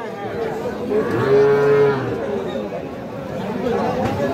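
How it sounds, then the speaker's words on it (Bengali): A Sahiwal bull calf about four months old lets out a single drawn-out moo close by at a cattle market, with people talking in the background. "এইটাও একটা সার বাছুর দর্শক"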